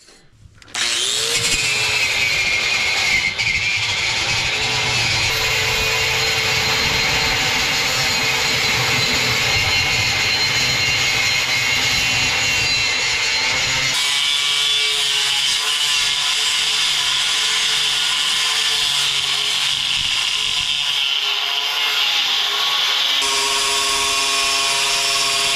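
A power tool trims a piece of wood for a birdhouse, its high whine running loud and continuous from start to end with a shift in pitch partway through the cut.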